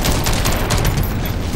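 Dense, continuous gunfire from the shooter game SYNCED rattles loudly and up close in a rapid unbroken fusillade that fills the whole short moment.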